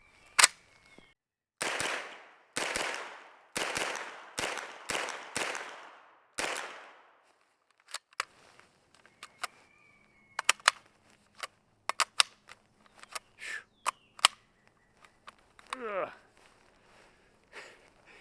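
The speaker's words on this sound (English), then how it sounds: "It shoots flawlessly, like you would expect a roller lock to shoot." A MAC 5 roller-lock gun fires a rapid string of loud, sharp shots outdoors, followed by scattered quieter clicks and handling sounds, with a person talking partway through.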